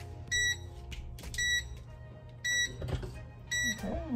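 A heat press timer gives four electronic beeps at a steady interval over a low machine hum, each a bright, high pitched tone lasting about a quarter second.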